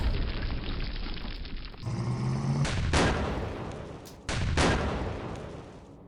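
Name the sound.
gunfire in the video game Campaign Series Rising Sun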